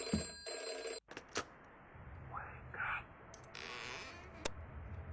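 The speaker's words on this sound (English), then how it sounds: "I hear that phone going." An old telephone bell rings in short electronic bursts in the horror video game Deep Sleep, with footsteps, clicks and faint background noise between the rings and a low voice murmuring.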